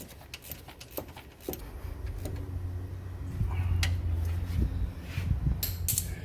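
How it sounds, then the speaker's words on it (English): A ratchet tightens the 14 mm top bolt of the alternator on a Honda Civic, giving close, irregular clicks and ticks over a low steady hum that grows a little louder midway. "I'm going to use my 14 millimeter and tighten this top bolt"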